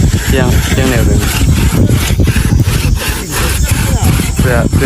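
Rhythmic back-and-forth rasping of a hand saw cutting old hardwood heartwood for a river bridge post, loud and close, with a person talking over the strokes.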